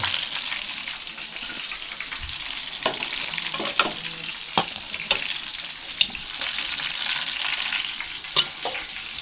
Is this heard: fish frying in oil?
yes